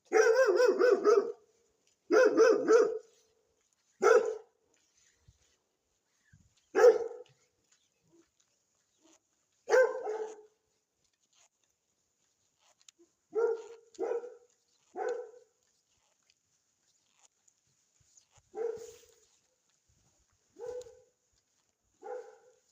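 A guard dog barks at night on a street in Mazara del Vallo, Sicily, in loud bursts of several rough barks followed by spaced single and double barks separated by quiet pauses, fairly near.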